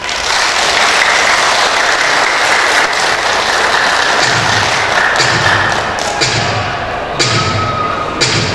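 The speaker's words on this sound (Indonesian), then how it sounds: "Tepuk tangan untuk pasangan yang nomor 5." Audience applause rings out at a 2015 Dumai mayoral and deputy mayoral public debate, loud and sustained clapping, then thinning into scattered claps with a few low thumps.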